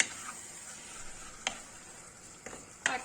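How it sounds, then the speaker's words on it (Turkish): Garlic being stirred in a pan with a splash of hot water, a steady faint sizzle under a few sharp clicks and scrapes of the spoon against the pan. "Şöyle sarımsakla birlikte de bir karıştıracağım"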